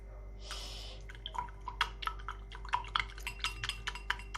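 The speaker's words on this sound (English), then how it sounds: "Squeeze some soap in there." Soap is squeezed from a bottle into red cabbage indicator, a short hissing squirt followed by a run of light drips, clinks and taps against glassware.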